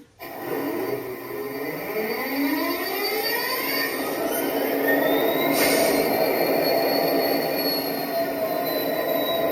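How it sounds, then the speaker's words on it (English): A 1-inch scale ATSF GP60M model locomotive powers up with a steady, close mechanical rumble and rising whining tones that climb and hold for several seconds, with no talking. "one of the things I need to do is actually turn the locomotive on"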